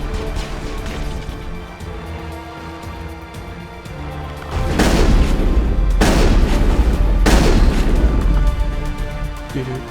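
Gunfire in the Mass Effect video game, heavy booming blasts that grow into a dense, loud barrage partway through, with sharp bursts repeating over a rumbling background.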